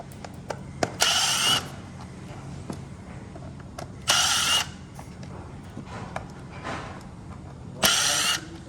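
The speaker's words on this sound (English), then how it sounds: "They are T15 Torx bit screws. You wanna remove them." T15 Torx screws being removed from a seat back with a power driver, three short loud whirring bursts spaced a few seconds apart, with faint clicks and handling noise between them and no talking.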